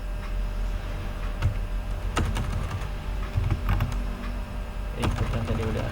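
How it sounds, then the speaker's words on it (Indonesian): A command being typed on a computer keyboard produces scattered, close key clicks and a few sharper taps over a low steady hum, with no speech. "Kita ketikkan di sini"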